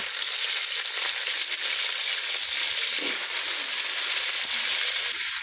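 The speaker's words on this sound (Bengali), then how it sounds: "তেলের মধ্যেই দিয়ে দিচ্ছি কেটে রাখা আমড়া।" Cut hog plums hiss and sizzle steadily in hot oil in a wok, a loud, constant frying crackle with no voices.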